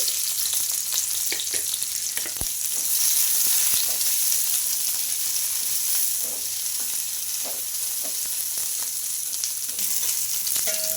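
Long-cut onion slices frying in a small amount of oil in a pan for sambar, a steady bright sizzle with occasional stirring scrapes and clicks, close and continuous without talk.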